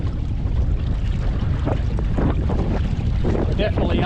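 A sailing dinghy beats to windward in strong wind against a flood tide, with steady roaring wind buffeting the microphone and water rushing and splashing along the hull, loud and continuous throughout.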